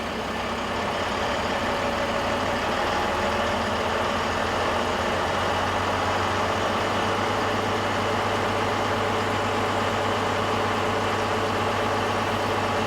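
Diesel truck engine idling at raised revs, a steady, loud, continuous heavy drone with a deep low rumble and no talking.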